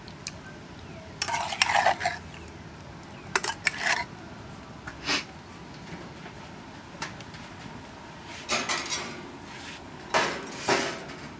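Pieces of fresh eel being laid on a hot barbecue, a string of clattering placements and tool knocks over a soft continuous sizzle.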